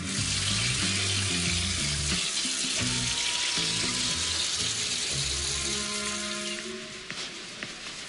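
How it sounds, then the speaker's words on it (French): Dishes being washed under a running tap, with a steady broadband rush of water and clinking, busy texture throughout, easing off slightly near the end. "j'ai juste fait un peu de vaisselle."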